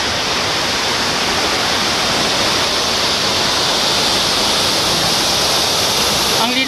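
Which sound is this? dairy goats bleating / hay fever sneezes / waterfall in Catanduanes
waterfall in Catanduanes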